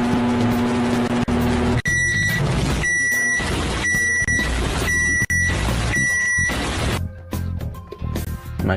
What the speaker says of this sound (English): Microwave noises.